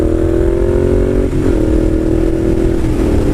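A Suzuki Boulevard M109R cruiser's exhaust rumbles loud and close, a deep steady engine note with two brief blips of the throttle partway through, alone without talk.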